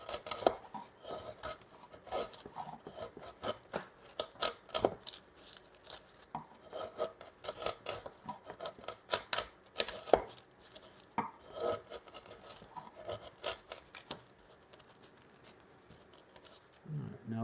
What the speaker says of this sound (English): That's a sharp chisel.